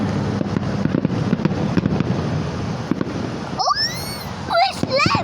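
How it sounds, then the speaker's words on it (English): Fireworks popping outdoors in a dense, crackling run of bursts, with whistling rising streaks near the end and a voice heard over them. "See the firework?"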